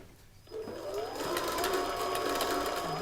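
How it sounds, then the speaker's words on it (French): Cupcake batter sweetened with Canderel is beaten vigorously into a smooth, frothy mix with a loud electric whisk, giving a steady buzzing whir that starts up after a quiet moment and holds constant, close by. "on fouette vigoureusement pour obtenir un mélange homogène et mousseux"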